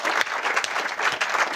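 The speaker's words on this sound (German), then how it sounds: "Also da gerne auch nochmal einen großen Applaus für die Audio-Crew." Dense audience applause at a 33C3 congress farewell session, a steady wash of many hands clapping close and loud throughout, with no talking over it.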